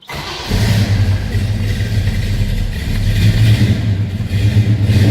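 A cold 1965 Pontiac GTO V8 fires up and settles into a loud, rumbling idle, a steady deep throb close by that swells slightly as it warms, with no talking.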